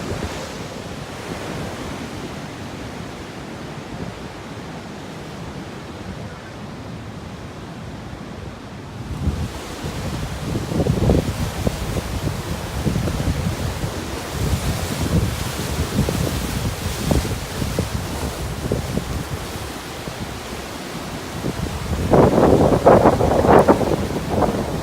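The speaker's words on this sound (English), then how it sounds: "The wind is up" Strong wind buffets the microphone on a rugged coast while ocean surf rolls and crashes nearby, and the waves grow louder toward the end.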